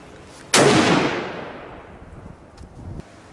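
A rifle fires at an outdoor shooting range: one loud, close crack with a long fading echo, followed about two and a half seconds later by a smaller, duller bang.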